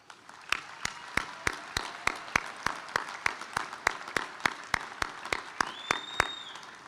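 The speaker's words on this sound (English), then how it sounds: "that deserves a round of applause" Applause at a university commencement ceremony, heard as evenly spaced claps in a steady rhythm over a soft crowd murmur, with a short whistle near the end.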